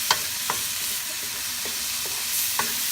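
Fish sizzles steadily in a hot pan for pesang isda, with a few sharp stirring or utensil knocks spaced across the continuous frying hiss, no voices.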